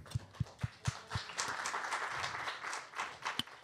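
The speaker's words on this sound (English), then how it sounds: "Round of applause for Estonia." A short burst of audience applause at a conference session on European funds, opening with a few distinct loud claps before blending into a dense patter of clapping that continues to the end.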